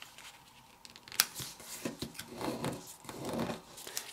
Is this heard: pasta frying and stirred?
no